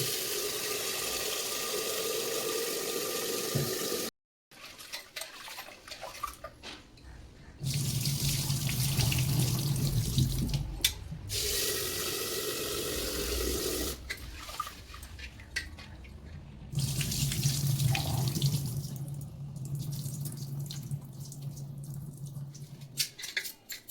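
Water runs from a kitchen sink tap in repeated bursts, a steady hissing gush that stops and restarts several times, close and moderately loud, with water splashing into the basin during some stretches.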